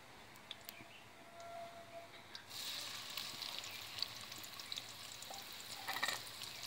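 Chopped onions in about three tablespoons of oil in a frying pan give a soft sizzle that swells after a couple of seconds into a steady, faint frying hiss with a few light clicks.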